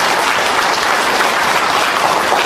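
Audience at a Buddhist missionary rally in Gangwon applauds award and commendation recipients, a loud, dense and steady wash of clapping from many hands filling the whole stretch with no speech.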